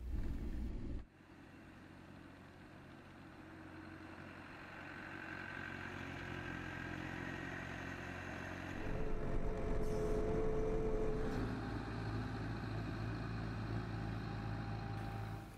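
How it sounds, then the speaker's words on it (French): A snow groomer's steady low engine rumble drones throughout, rising slightly in intensity partway through, with no voices over it. "Le bruit du moteur est déjà une mélodie lui indiquant les soubresauts de sa machine."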